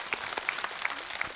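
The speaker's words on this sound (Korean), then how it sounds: "박수 좀 보내주세요" Applause from a studio audience at a Korean amateur singing contest show, a steady wash of clapping running through the whole moment without talk.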